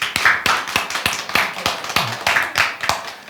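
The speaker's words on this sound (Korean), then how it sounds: "힘내시라고 박수 한번 주세요." A church congregation at a Sunday service claps to encourage a member, a loud, fairly regular run of sharp claps, about three per second, close and clear.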